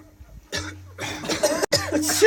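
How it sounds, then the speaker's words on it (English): A person coughs several times in quick harsh bursts, close and loud, with short pauses between them and a little throat clearing, heard indoors. "Don't cough!"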